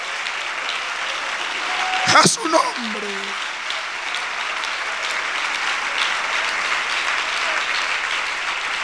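A church congregation applauds during a Spanish-language evangelical sermon, the steady clapping running under the preacher's voice, with a brief louder vocal burst near the start.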